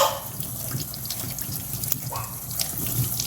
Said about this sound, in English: So you can just use a sponge to wash it,